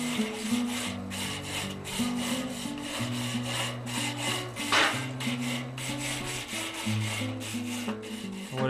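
A wire brush scrubs a hot charcoal grill grate before ribs go on, giving rhythmic, close scraping strokes over a background of steady music.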